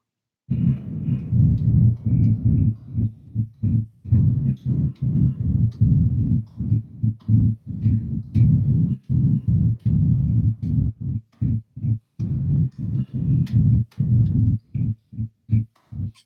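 A deep, muddy bass lowered an octave pulses in a rapid, uneven rhythm, with low thumping notes repeating loudly throughout.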